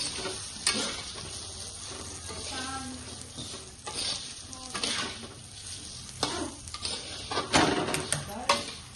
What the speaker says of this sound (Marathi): पूर्ण फोडणीमध्ये अशा परतून घ्यायच्या छानपैकी.